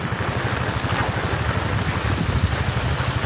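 Heavy monsoon-season rain pours down at night, a dense, loud, steady hiss with no break throughout.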